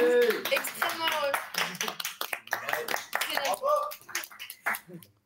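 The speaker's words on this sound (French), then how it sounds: "vous avez le plateau de TVR qui vous applaudit" Applause on a television studio set at an awards closing evening, scattered claps mixed with near voices talking and reacting throughout.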